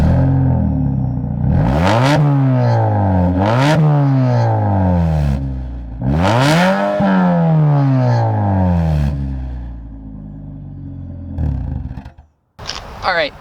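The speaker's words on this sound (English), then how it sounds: "we had the muffler cut off, so this is a muffler delete car" A 2012 Ford Fusion with a 2.5-liter engine and a muffler-delete exhaust revs repeatedly, each rev rising sharply in pitch and then sinking back, loud and close, with a brief quiet gap near the end.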